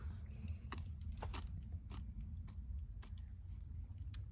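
Crunchy bites and chewing of a camping crème brûlée with a torch-caramelized sugar crust, several close crackling crunches over a steady low hum, with brief voices nearby.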